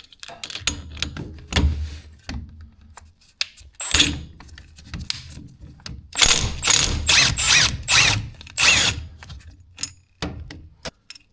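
A ratchet works loose a nut while a belt is taken off in a workshop repair, giving close bursts of rapid clicking separated by pauses and metallic handling sounds, loud and without talk.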